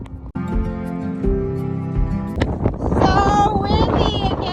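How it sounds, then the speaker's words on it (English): Strong wind buffets the microphone on a hillside hike in Cairngorm National Park, Scotland, a loud roaring rumble that builds and turns gustier in the second half, mixed with a steady tonal hum. "So windy again!"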